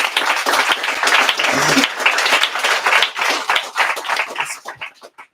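Loud, close applause from a panel audience at a social care policy event, brisk and dense at first, then thinning into scattered claps with murmured voices near the end.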